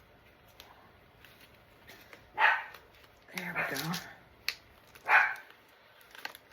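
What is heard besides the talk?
Pomeranian dog barking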